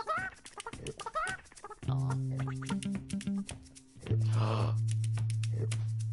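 Cartoonish chickens cluck in the Burly Men at Sea video game, a short run of bright clucks followed by sustained, honking calls that hold steady and loud, with no talking.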